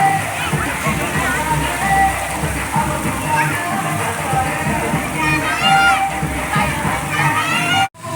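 People splash and play in water at a water park, with continuous sloshing and watery noise under lively voices and excited chatter close by.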